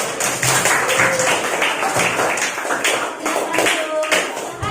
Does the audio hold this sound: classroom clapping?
yes